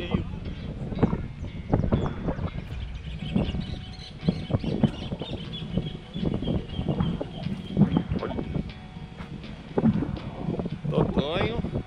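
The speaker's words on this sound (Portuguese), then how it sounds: "Nossa, dia de muito vento hoje, hein?" Strong, cold wind gusts buffet the microphone at a kayak tournament, rumbling in uneven bursts while people talk throughout.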